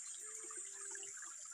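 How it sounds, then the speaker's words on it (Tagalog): River water flows in a steady, even rush with no break, faint and continuous, heard alone without voices. "May dumadaloy na tubig."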